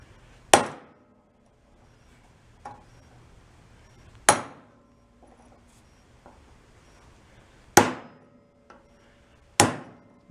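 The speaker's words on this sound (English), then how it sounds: "You can get that right there with a real hammer." Hammer blows land on a part of a 1962 Homko snowblower, four sharp metallic strikes spaced a few seconds apart with a couple of lighter taps between, each ringing briefly before dying away.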